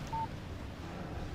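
A phone in Alan Wake Remastered gives a single short electronic beep as a text message alert, clear but brief against a quiet low ambient game background with no talking.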